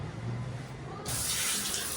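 Water running from a tap, a steady hiss that swells noticeably louder partway through as the flow opens up, with no talk.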